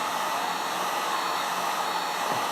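Hair dryer blowing steadily at close range over a watercolor painting, a continuous even roaring whoosh with no talk.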